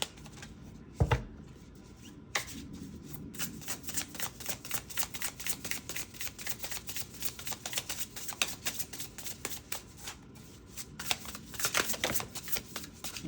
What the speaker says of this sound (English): We're going to pick up the rest of these cards so we can continue to clarify.